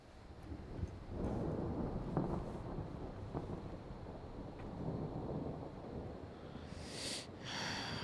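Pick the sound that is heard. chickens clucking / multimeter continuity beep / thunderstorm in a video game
thunderstorm in a video game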